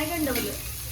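Bombil (Bombay duck) fries in an iron kadai with a continuous close, hissing sizzle and faint crackle throughout the short moment.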